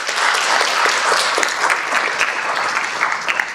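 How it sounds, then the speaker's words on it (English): Loud, steady applause for panelists at a pre-med mentoring breakfast on Black maternal health, many hands clapping close together without pause. "can we give our panelists a round of applause?"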